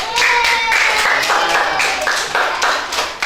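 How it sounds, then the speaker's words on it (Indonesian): Classroom students clap their hands together, a dense, steady round of applause with a few voices mixed in, close and fairly loud throughout. "Beri tepuk tangan."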